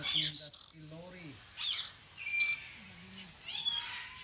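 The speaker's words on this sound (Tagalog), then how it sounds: "Yan, naliligo ang ating dusky lorry." A dusky lory bathing in an aviary gives sharp, shrill chirps and squawks in short separate bursts, close and clear against a quiet background.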